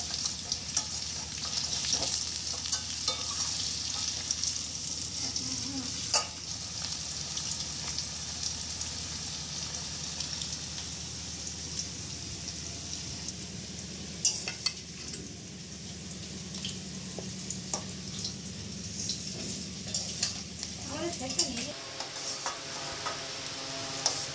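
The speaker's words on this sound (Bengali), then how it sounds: "আলু ভাজা চলছে" Potatoes fry in a pan on a home stove, giving a continuous close sizzle with occasional stirring clatter and a few sharp ticks, steady throughout with no talking.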